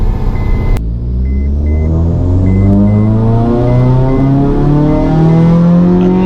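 A Honda Civic FN2 Type R engine winds up on a dyno run, loud and close, its pitch climbing steadily through the gears after a brief dip, a continuous rising howl with no talk.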